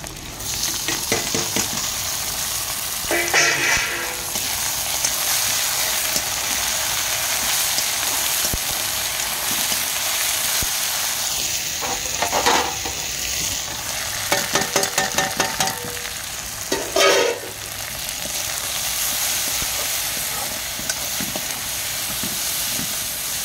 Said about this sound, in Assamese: এতিয়া মই অকণমানকৈ ফ্ৰাই কৰি ল'ম, তেল অকণমান দি লৈছোঁ